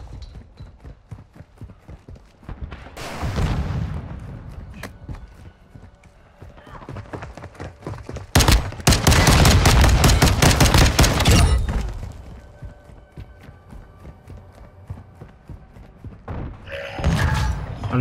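Gunfire in Modern Warfare II, with rapid clattering bursts and several loud dense volleys of shots, near and punchy, with game noise and scattered voices between.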